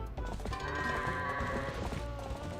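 Goats bleating in the video game The Legend of Zelda: Twilight Princess HD, several short tonal bleats overlapping near and clear against soft game background sound.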